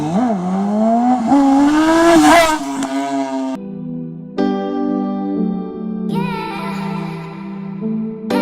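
A motorcycle accelerates hard for a wheelie, its loud engine revving up through rising pitch, dropping briefly at gear shifts, then climbing again, close and continuous with wind noise.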